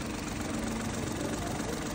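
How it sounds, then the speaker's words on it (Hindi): A Suzuki Alto with a converted 660cc double-cam engine idles with a steady, even, close-up hum and no change in pitch. "इस वक्त गाड़ी स्टार्ट खड़ी है, कोई वाइब्रेशन नहीं, कुछ नहीं"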